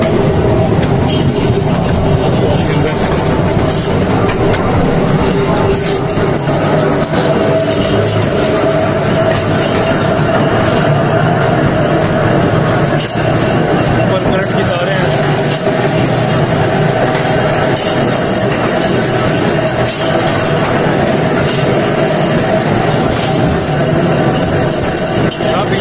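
A train inside the Khewra Salt Mine rumbles continuously, a loud, dense mechanical roar with rattling that stays steady throughout, with faint voices in the background.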